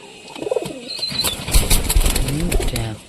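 Satin pigeons kept in a loft give soft cooing calls with wing flaps and light rustling, close by and fairly loud over about three seconds, without talk.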